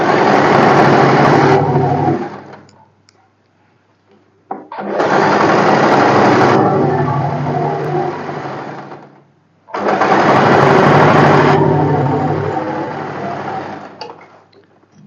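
An electric sewing machine runs press stitching along the waist of a boatneck blouse in three loud, close bursts of steady motor whirring, each a few seconds long and separated by brief pauses.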